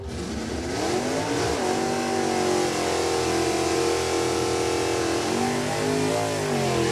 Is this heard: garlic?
no